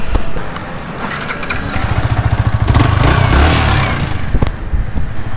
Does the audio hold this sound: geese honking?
no